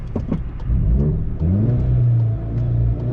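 A Volkswagen Golf GTI Clubsport S engine revs up close and loud, its rising, throaty tone swelling and holding steady with no talk over it.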